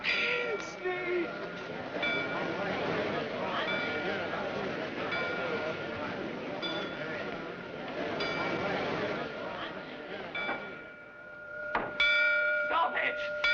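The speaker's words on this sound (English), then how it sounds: "Sneed, stop those bells!" Church-style bells ringing on and on in a dramatic period scene set near a cavalry post, with tolling tones running continuously under loud shouting voices, the clanging becoming sharper and more insistent toward the end.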